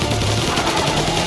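Gunfire in the Mafia: Definitive Edition video game, a loud continuous burst of rapid shots filling the whole moment without pause.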